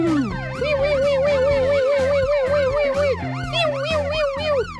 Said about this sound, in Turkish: Sireni bile çalıyor.